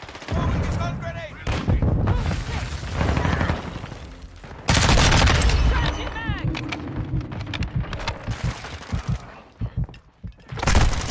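Modern Warfare 2 multiplayer Hardpoint match with a stun grenade thrown: loud, dense gunfire and bursts of combat noise across the whole stretch, a sharp heavy blast near the middle, and game voices mixed in.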